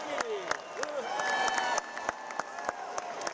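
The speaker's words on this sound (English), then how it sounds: "This applause is an accolade not for Trump, but for Nikki Haley" Crowd at a Republican convention applauds, scattered sharp claps and cheering voices over a brief burst, with tonal speech-like sounds mixed in, moderately distant.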